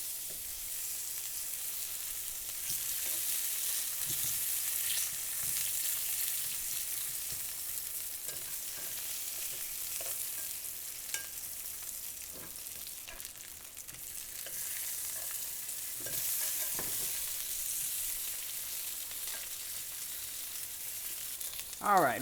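Chayote slices fry in hot oil in a pan for veggie tacos, giving a steady, even sizzle that runs throughout with small crackles and occasional clinks or stirring taps.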